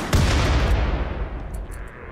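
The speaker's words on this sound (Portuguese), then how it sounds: "Olha a granada lá, cara." A grenade explodes in RimWorld with a single sharp, heavy boom that rings out and slowly decays over about two seconds, leaving a faint rumbling tail with a few small high clicks near the end.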